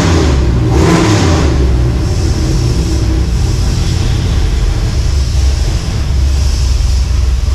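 A big-block 427 V8 engine revving loudly through 3-inch exhaust pipes, a deep exhaust rumble holding a steady, throaty roar throughout.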